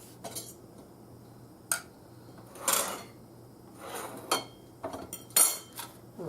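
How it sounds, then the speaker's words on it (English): A knife cuts into a homemade apple pie with a from-scratch crust, making several short, faint scraping and clicking strokes against the dish, spaced irregularly with quiet gaps between. "Now let me cut into one of these apple ones."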